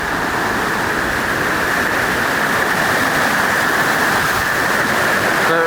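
Floodwater rushing past a bridge during the 2024 flood, a loud, steady broadband roar that runs unbroken for the whole stretch with no pauses and no talk over it.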